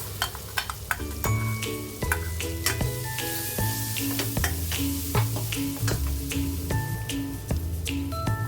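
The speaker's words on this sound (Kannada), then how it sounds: "ಒಣಮೆಣಸಿನ್ಕಾಯಿ, ಜೀರಿಗೆ, ಕೊತ್ತಂಬರಿ ಸೊಪ್ಪು ಅದನ್ನು ಹಾಕ್ಕೊಂಡು ಎಣ್ಣೆಯಲ್ಲಿ ಚೆನ್ನಾಗಿ ಹುರ್ಕೊಳ್ಬೇಕು" Ground masala of dry chilli, cumin and coriander sizzles in hot oil for village-style raw mango rice, with steady frying crackle and repeated stirring scrapes and knocks of a spoon in the pan.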